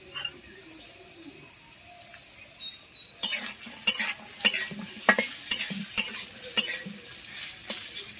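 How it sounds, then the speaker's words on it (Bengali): Onion and garlic sizzle in mustard oil in a pan while a spoon stirs in repeated scraping strokes, close and moderately loud, with faint birdsong in the background. "পেঁয়াজ রসুন ভাজা হয়ে গেছে"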